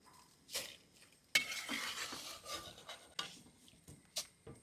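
Fried poha is scooped out of hot coconut oil in a pan, giving quiet scraping and rustling strokes of the ladle against the pan, with a few sharper grating bursts spread unevenly through the stretch.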